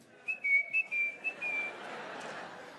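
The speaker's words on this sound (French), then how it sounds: "Pourquoi tu siffles?" Someone whistles a short, wavering series of notes, fairly quiet and close, which then trails off into soft room noise.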